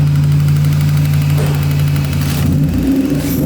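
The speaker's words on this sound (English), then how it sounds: "it has some crazy induction noise" A BMW E30 with an M52 engine running steadily with a loud, close hum and strong induction noise, a steady low drone that shifts in pitch near the end as revs change, with no talking.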